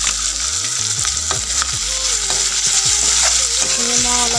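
Cumin and coriander powder fry in a hot pan with a dense close sizzle, and a spatula taps and scrapes against the metal at an irregular pace.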